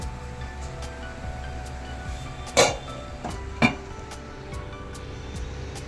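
A metal lid is set down on a cooking pot of basanti pulao, giving two sharp clinks a second apart over a quiet kitchen background with faint hum.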